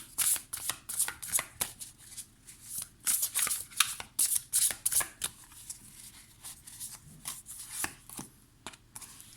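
A Beautiful Creature tarot deck is riffled and shuffled by hand in quick, crisp bursts of papery flutter, close and clear, with brief pauses between rounds.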